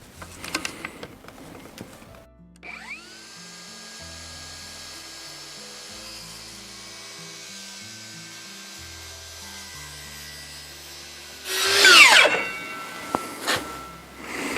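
A power saw cuts a wooden test piece in a garden shed workshop: a steady mechanical drone holds for about ten seconds, then a loud, harsh burst of cutting near the end before it stops.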